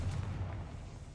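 A Confringo spell explosion in Hogwarts Legacy gives a single low, rumbling blast that fades over about a second, with no talk over it.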